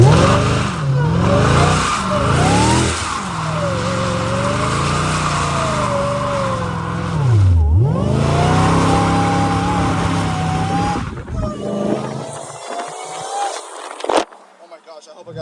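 Dodge Challenger Hellcat Redeye drifting on private property, its supercharged engine revving and surging in repeated swells while tires squeal and skid, loud and close, fading to quieter rumble at the end.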